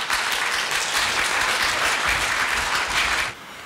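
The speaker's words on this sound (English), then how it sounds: "Let's give them a welcome round of applause." A reunion crowd of alumni applauds to welcome a men's octet, with bright, dense, sustained clapping at steady volume that drops off abruptly near the end.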